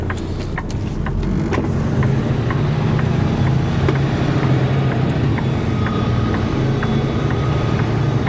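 A semi truck manoeuvring and reversing in a tight space, a steady, loud low engine rumble running throughout with faint clicks and ticks over it, no talking.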